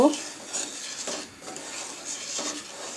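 A spoon scrapes and stirs sugar in a pan while pumpkin murabba is being made, with repeated steady strokes, close and clear, and no voices.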